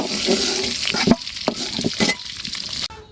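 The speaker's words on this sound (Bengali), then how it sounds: "আমার ডিমটা ভাজা হয়ে গেছে" Egg sizzles loudly in a hot pan while a utensil scrapes and taps against it several times, ending in a sudden quieter hiss.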